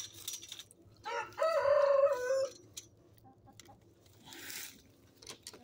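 A rooster crows once on a ranch, a single loud, drawn-out call rising and holding for about a second, followed by scattered softer clucks and faint background noise.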